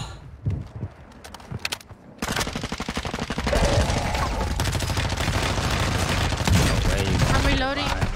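Rapid game gunfire from a shooter: a few scattered shots, then sustained automatic bursts firing fast and loud for several seconds, with a voice briefly talking early on.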